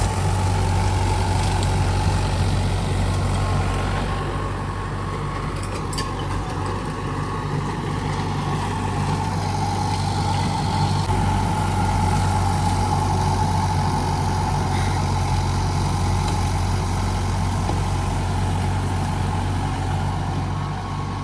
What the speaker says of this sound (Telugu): ట్రాక్టర్తో అయితే ఈ విధంగా తీసేస్తున్నారు మొత్తం పొలంలో.